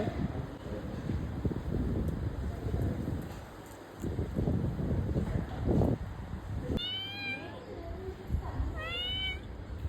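Gusty wind rumbles steadily across the microphone on a hilltop, and a cat meows twice near the end.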